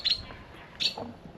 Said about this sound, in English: I love all the little bird sounds you can hear everywhere.